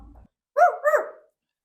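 A dog barks once as a sound effect, a short two-part yelp-like bark that stands clear and close after a brief murmur of voices.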